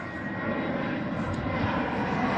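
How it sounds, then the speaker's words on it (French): A passing EasyJet passenger airliner flies overhead, its broad, steady engine roar holding loud and continuous throughout. "Ça, c'est l'avion qui vient de chez nous."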